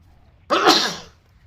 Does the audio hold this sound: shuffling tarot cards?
no